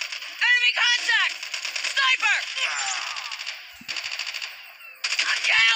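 Rapid bursts of automatic gunfire from the mobile shooter game Call of Duty Mobile, loud and close, rattling in several runs separated by short gaps.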